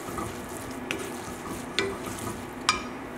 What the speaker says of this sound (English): Mix through.